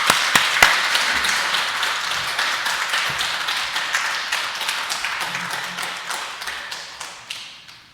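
A church congregation claps together during a Sunday worship service, producing a steady run of quick, rhythmic handclaps that hold an even pace and fade slightly toward the end, with no talking.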